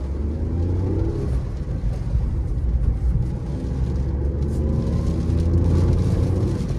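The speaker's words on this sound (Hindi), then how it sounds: "तो गाड़ी जो है ऑलमोस्ट 60 पे पहुंच चुकी है" A 2016–20 Tata Tiago XZ hatchback accelerating from a standstill toward 60 in first gear and up, its engine a steady, loud, continuous drone heard from inside the cabin with no talk.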